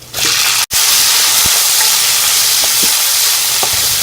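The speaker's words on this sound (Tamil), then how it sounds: "வெங்காயம் கொஞ்சம் எண்ணெயிலேயே நல்லா வணங்கட்டுங்க." Frozen onions sizzle loudly in hot oil with a steady broadband hiss, broken by a brief dropout early on and a few soft clicks of stirring.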